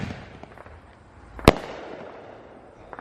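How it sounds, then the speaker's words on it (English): A single sharp firework bang cracks out midway through a Fourth of July display at Universal Studios. It is loud and close, and a low background crowd murmur continues around it. "They got the 250 fireworks."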